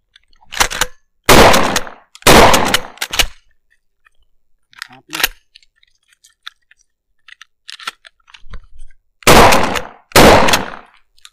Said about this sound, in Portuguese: Vou fazer uma recarga rápida, fecho a arma, uma recarga no tubo e mais dois disparos